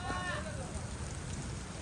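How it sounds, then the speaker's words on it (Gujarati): Monsoon rain pours down outdoors at a house in Gujarat, a dense, steady hiss of drops hitting surfaces, fairly faint and unbroken throughout. "વરસાદ આવ્યો."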